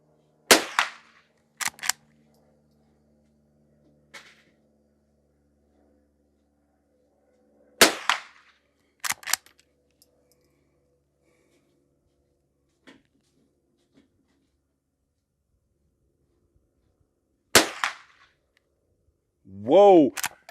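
A Henry H001 lever-action .22 rifle firing bulk ammunition at a target, several sharp isolated cracks spaced seconds apart, with someone speaking briefly at the end.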